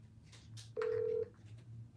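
A single steady telephone tone lasting about half a second, loud and clear, with faint background noise before and after it.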